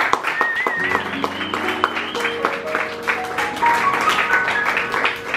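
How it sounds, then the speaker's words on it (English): An audience at a live music show in a small café in Boston applauds the sound engineer: a steady, moderately loud wash of clapping, with sustained instrument tones ringing underneath. "applause to the young man in the back of there doing the audio"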